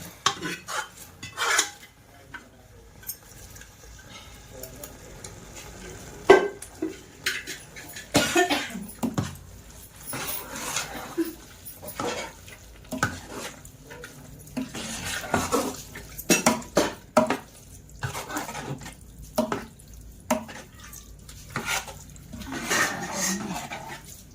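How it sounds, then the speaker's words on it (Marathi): Ground masala paste is added to a pot for a Rajapuri misal, followed by irregular metal clanks and scrapes of a spoon stirring against the pan, with a dog barking and occasional coughs in the background. "सर्व तर वाटण टाकून घेते"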